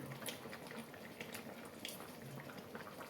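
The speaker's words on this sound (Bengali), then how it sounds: "সব মাছগুলি আমি একটা একটা করে ঝোলের মধ্যে দিয়ে দিলাম" Fried koi fish slipping into simmering cabbage curry broth, with a steady watery bubbling and soft sloshing that runs evenly throughout and carries no talk.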